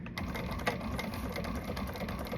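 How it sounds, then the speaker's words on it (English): A sewing machine runs steadily, top stitching the lining of an Allegra garment, with a continuous close mechanical whir and rapid needle chatter and no pauses. "let's top stitch these down"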